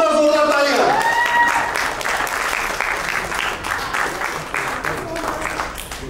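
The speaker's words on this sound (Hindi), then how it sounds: "पुष्पा गुप्ता, जोरदार तालियां" Loud, dense audience applause fills the air at a women's celebrity cricket league event, sustained throughout with a crowd murmur and music tones fading at the start.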